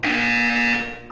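A loud, steady electronic buzzer from the video game Portal 2 sounds once, holding a harsh tone for about a second before cutting off.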